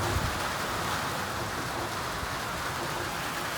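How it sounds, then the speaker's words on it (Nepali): Steady outdoor rain with heavy wind during a family worship gathering, a dense, even hiss that fills the whole stretch without pause, moderately loud and without talk. "पानी पर्यो"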